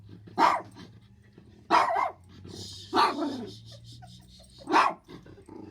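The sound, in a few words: Yorkie Maltese mix dog barking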